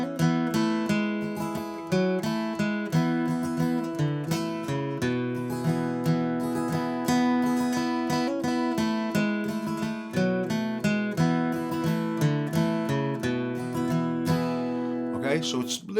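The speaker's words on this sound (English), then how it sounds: "So what I tend to do is I put a little bit of strumming in between the melody." An acoustic guitar plays a melody with bursts of strumming between the melodic phrases, close and clear, in a steady rhythmic flow with no talk over it.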